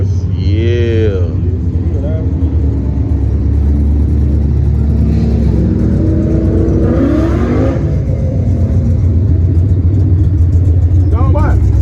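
A straight-piped Chevrolet Camaro SS revs at a car meet. The engine throbs loudly and continuously close by, its pitch rising and falling with the revs, while people talk over it.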